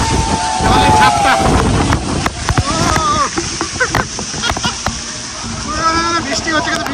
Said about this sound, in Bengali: বৃষ্টি হচ্ছে কিন্তু বৃষ্টি না, ঝর্ণার জল এটা।